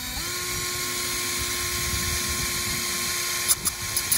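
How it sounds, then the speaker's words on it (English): An electric drill whines steadily at a near, even pitch while drilling a camper trailer leg for a pop rivet, then stops, followed by a few brief metallic clicks. "I'll pop rivet it back in"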